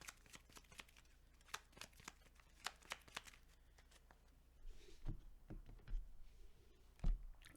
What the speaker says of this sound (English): and then I'll shuffle this crit into my deck